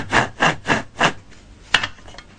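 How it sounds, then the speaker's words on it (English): Hand saw cutting through a piece of wood with four slow, even back-and-forth strokes, then a single sharper scrape after a pause, close and fairly loud. "Just get on with the sawing."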